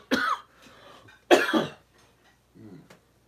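Two sharp, close coughs about a second apart, followed by a softer throat-clearing sound.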